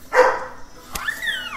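Lily the dog gives a single close bark, followed by a short high whine or yip a moment later.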